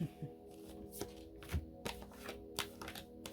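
Quiet, close shuffling of playing cards: a run of soft riffling taps and flicks at an uneven rhythm, with no voices.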